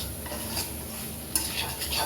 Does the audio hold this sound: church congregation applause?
no